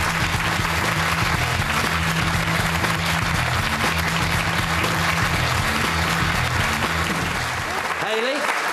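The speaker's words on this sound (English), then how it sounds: "Give them a round of applause, ladies and gentlemen." A studio audience applauds steadily for TV show guests, a dense, even wash of clapping lasting throughout, with voices talking over it near the end.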